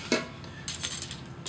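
Lightweight titanium camping cutlery is handled, giving a few bright metallic clinks and light rattles, close and clear against a quiet background.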